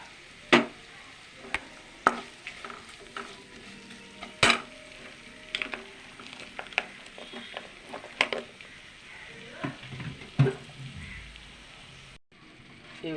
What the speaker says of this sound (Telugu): ఉల్లిపాయ ముక్కలు వేగిపోయినాయి.